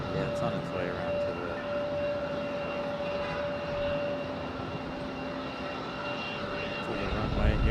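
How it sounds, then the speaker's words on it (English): A Delta Airbus A320 airliner taxis at Raleigh-Durham International Airport, a steady engine roar with a faint whine, heard from a distance alongside low conversation. "This is our Delta A320."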